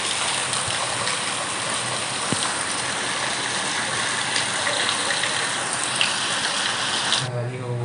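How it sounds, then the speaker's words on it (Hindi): Steady rain falls on the paddy fields during rice transplanting, a dense, even hiss that fills the whole clip at close range. Near the end the wash drops away abruptly into quieter low rumbling. "पानी गिरत कम से कम 1 घंटा हो गया"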